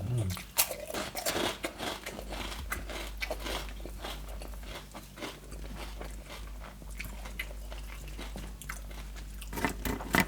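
Crispy pork cracklings crunched and chewed with Thai green chili dip, repeated sharp close bites and crackling chews, with murmured voices in the background.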